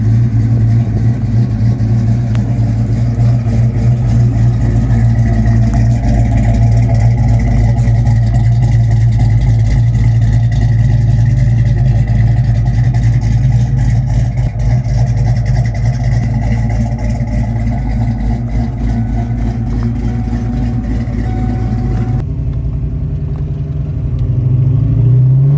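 A Fox Body Mustang with a 351 V8 and an off-road H-pipe exhaust drives along, its loud, deep engine rumble steady and close for most of the stretch before dropping off sharply near the end.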